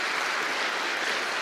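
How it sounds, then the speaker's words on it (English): An audience at a keynote applauds, a dense, even sheet of clapping that holds at steady volume throughout with no speech on top. "If we can give them a big round of applause, please."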